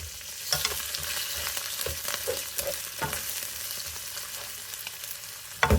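Frozen seafood mix of shrimp, squid and clam frying and being stirred in a pan, a steady close sizzle with scraping stir noises and a louder clatter at the very end.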